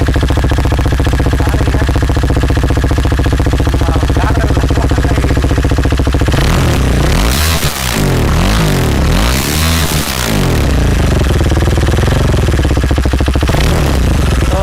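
A 2020 KTM Duke 390 BS6 motorcycle engine running with the exhaust muffler removed: a loud, raw, rapid-firing idle close by, then several sharp revs climbing and falling before settling back to a steady, rattly idle.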